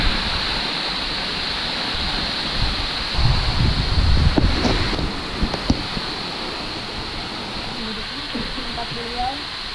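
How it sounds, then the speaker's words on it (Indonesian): Strong wind gusts buffet the microphone beside a waterfall at the foot of Mount Salak in Bogor, a loud steady roar of rushing water and wind with brief louder bursts midway. "Ini anginnya cukup kencang ya teman-teman."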